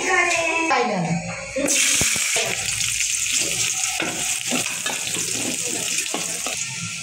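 Oil, onions and spices sizzle in a hot kadai, a crackling, spitting fry that starts after a brief voice and continues with clattering stirs against the pan.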